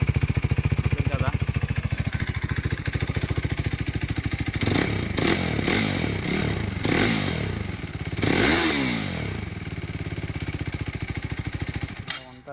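A motorcycle fitted with an Akrapovic exhaust, its dB killer removed, idles with a loud, fast, close pulsing thump, then revs sharply several times with crackling bursts before settling back to idle, and a voice speaks over it.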